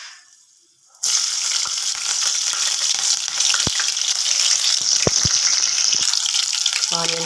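Green chillies dropped into hot oil for an Indian egg and tamarind-leaf curry, a loud steady sizzle that bursts in after a quiet start and crackles continuously, with a few sharp pops near the end.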